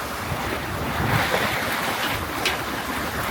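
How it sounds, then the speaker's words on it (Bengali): Rain and wind outside during a dark storm, a steady loud rush of wind gusts buffeting the microphone with rain noise underneath, no talk. "বাতাস আছে, বৃষ্টিও আছে।"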